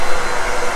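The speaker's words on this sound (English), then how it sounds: "I take the diffuser off the blow dryer." Handheld blow dryer running with its diffuser removed, a steady close broadband whoosh of blowing air holding even throughout with no voices.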